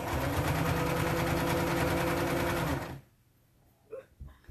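A sewing machine hums loud and steady for three seconds while sewing around a dress made from a T-shirt, then cuts out, leaving quiet room tone and small handling sounds.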